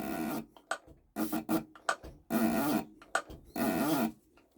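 Diesel injectors from a Mercedes OM603/OM606 engine fired by hand on a pop tester, giving four loud, harsh bursts of growling spray noise separated by short gaps, close up, with no speech.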